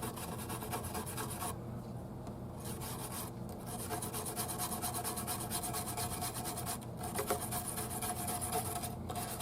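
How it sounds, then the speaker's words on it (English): A 1977 Ibanez MC 300 Musician guitar is scrubbed lightly with rubbing alcohol to lift years of grime, giving a steady, close, dry rubbing rasp with brief pauses. "some rubbing alcohol. Not really putting any pressure on it or anything like that, just kind of giving it a little scrubbing."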